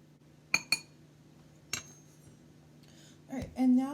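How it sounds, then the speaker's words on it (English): A utensil clinks a few times against a bowl while dry cookie ingredients and salt are lightly mixed, with sharp separate taps followed by a short scrape and a brief voice near the end. "And now I'm just going to lightly mix this all together."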